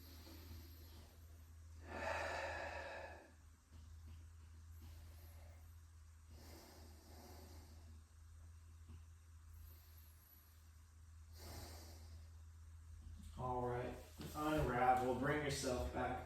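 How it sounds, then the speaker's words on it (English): Slow, deep breaths drawn in and let out during a yoga hold, a few long soft airy swells separated by quiet pauses, with a voice talking briefly near the end. "Take 4 or 5 deep breaths here"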